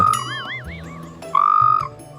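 Frog croaks in two loud, close bouts: a warbling, wavering call followed by a steadier sustained tone, with no talking.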